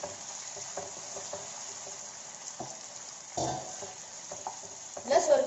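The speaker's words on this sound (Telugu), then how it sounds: "బాయిల్ చేసి పెట్టుకున్న సొరకాయ ముక్కలు వేసుకుని ఒకసారి కలుపుకోవాలి" Boiled bottle gourd pieces are stirred into okra frying in a pan, with a steady soft sizzle throughout, occasional scraping strokes and a louder clatter of stirring near the end, close by.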